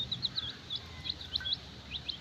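Small chicken chicks chirp repeatedly while feeding on homemade chick feed, a steady run of high, thin peeps over a low background rumble, faint and close.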